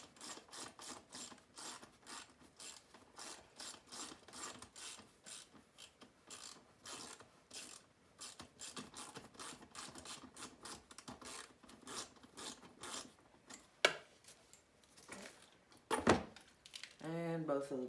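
A hand ratchet works the fuel tank bolts loose on a 2005 Honda CRF70 dirt bike, a long run of quick, steady clicking strokes with short pauses and a couple of louder knocks near the end.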